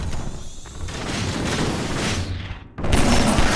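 Sustained gunfire from the Half-Life 2 video game, a dense fusillade of overlapping shots and booms that rolls on continuously, dips briefly, then resumes at a louder level.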